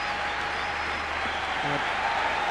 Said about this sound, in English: It's the adulation from the crowd.